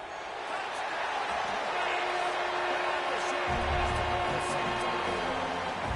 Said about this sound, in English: And this crowd was already jacked up. They were already excited.